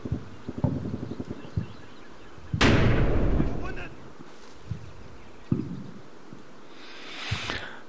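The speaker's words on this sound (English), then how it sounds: "he's still mortaring at the bridge there, and he's still trying to mortar right up the back here" Mortar shells exploding in a war video game, with one big booming blast followed by scattered softer thuds and pops, some farther off, amid light clattering and a voice speaking.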